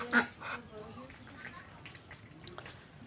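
Ducks kept at home, one sitting on a clutch of eggs, give a loud close quack at the start and then softer scattered calls over a low background murmur.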